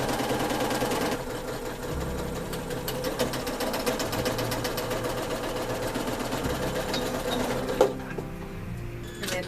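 A sewing machine stitching a quarter-inch seam through quilt-block fabric: a rapid, steady mechanical chatter running close and continuously, with a slight change in tone partway through and a short clunk near the end.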